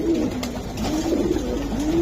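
A male racing pigeon at a pigeon club sale coos in low, rolling, repeated phrases, close and clear over a steady background hum.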